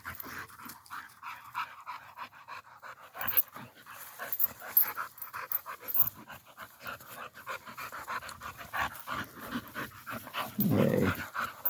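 Two dogs play outdoors, a 9-year-old big female named Bella among them, with rapid close panting, scuffling and occasional whimpers and growly yips, fairly quiet overall with a louder burst near the end.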